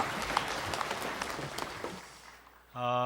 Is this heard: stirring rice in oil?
no